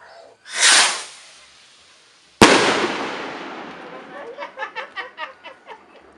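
A sharp whoosh is followed by a loud bang, then a trailing hiss and a rapid series of crackling pops fading out.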